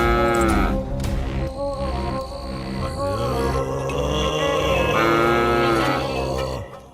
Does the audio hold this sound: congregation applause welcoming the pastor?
no